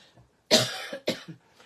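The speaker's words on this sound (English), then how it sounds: "I'm still probably going to cough." Two sharp, close coughs in quick succession, the first louder and longer, each followed by a brief rough tail, then quiet.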